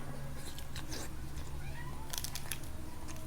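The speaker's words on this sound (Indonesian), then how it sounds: "Ada kucing." A cat meows a few times, faint and somewhat distant, over a constant background hum with occasional light clatter during an outdoor meal of grilled gourami fish.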